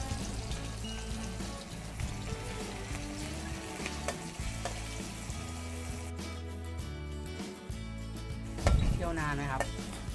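Shallots frying in hot oil over low heat give a dense, continuous close sizzle and bubbling, with someone speaking over the cooking.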